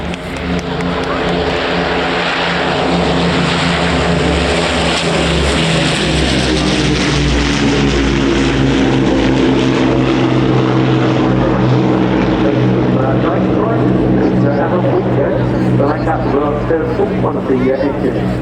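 A Battle of Britain Memorial Flight propeller aircraft flies past at the RIAT airshow, its piston engines droning loud and close with a steady throbbing tone, while a commentator talks over the engine noise.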